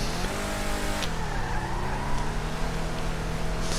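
A Declasse Drift Tampa in GTA Online drifts on the e-brake, its engine droning loudly with shifting revs while the tyres squeal and skid, and no one speaks.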